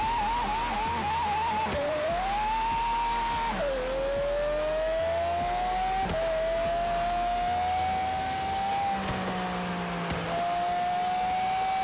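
A car in the racing game Forza Horizon 3 drives with a steady, loud engine tone that drops sharply at each gear shift, while a low tire skid rumbles at intervals beneath it.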